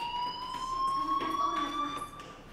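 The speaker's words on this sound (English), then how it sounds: "do you hear that fire alarm? That means you should be outside." An alarm tone from the video game Life is Strange sounds continuously, a steady electronic beeping pitch held throughout, fairly close and moderately loud, with faint background murmur beneath.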